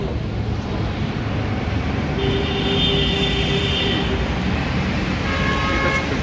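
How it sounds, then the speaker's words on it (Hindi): A metro train arrives at a station amid loud, steady rumbling rail noise, with a high tonal horn or signal tone sounding briefly twice over the din. "तो हमारी मेट्रो आ गई है, हमें जाना है बोटैनिकल गार्डन।"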